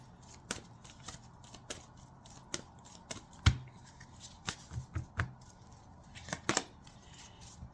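A deck of cards is shuffled and handled close up, with crisp riffles, snaps and taps arriving in irregular bursts against a quiet background.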